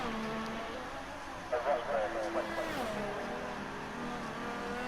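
A McLaren racing car engine in the F1 2018 video game on the Azerbaijan circuit, revving and shifting down to second gear with rising and falling engine tones, heard under a commentator's continuous talk.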